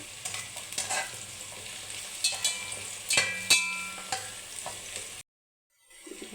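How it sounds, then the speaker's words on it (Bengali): Onions sizzling in hot oil in a pan for mutton curry, with steady frying crackle, repeated scraping stirs and a few clinks of the spatula, before the sound cuts out abruptly near the end. "তো পেঁয়াজটাকে একদম লাল লাল করে ভেজে নেব।"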